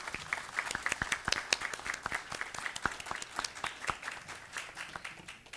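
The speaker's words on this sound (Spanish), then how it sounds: "ese aplauso va por ella" A conference audience at a panel on freedom of expression and access to information claps for a visiting judge, crisp individual claps standing out within a lively, moderately loud round of applause that tapers slightly at the end.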